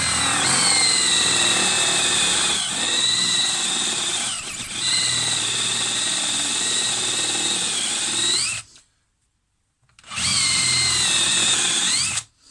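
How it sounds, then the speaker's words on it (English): A power drill whines loudly as a Forstner bit bores into wood, pitch shifting under load, stops briefly, then starts drilling again. "line up the Forstner bit, so the centre point, with the centre hole, and we're just going to drill in"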